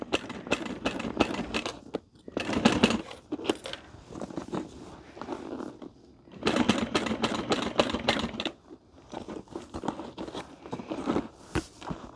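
A home sewing machine stitches a handbag lining in two long bursts of rapid, steady needle chatter, separated by quieter stretches of cloth handling and small mechanical clicks, heard close up.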